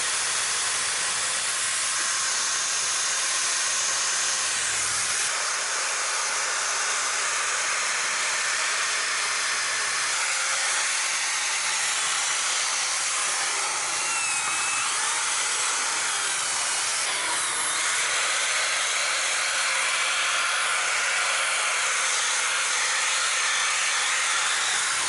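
Compressed air blasts steadily under a truck, blowing loose rust and debris off the control arm, ball joint, tie rods and CV axle area, a loud continuous hiss with slight shifts in pitch, heard alone.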